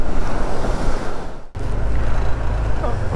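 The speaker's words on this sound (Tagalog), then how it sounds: "Grabe lakas ang alon no." Strong ocean waves break and surge at the Laurel baywalk in Batangas, a loud continuous wash of surf with heavy wind buffeting the microphone, briefly cutting out midway before the roar resumes.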